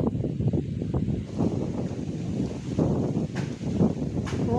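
Strong wind gusts during rainy weather on a rooftop, a rough, blustery rush buffeting the microphone with rustling leaves, rising and falling in bursts, close and fairly loud.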